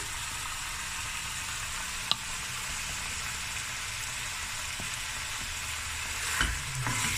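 Oxtail frying in a pan, a continuous close, even sizzle with a single sharp tap partway through and brief clatter near the end.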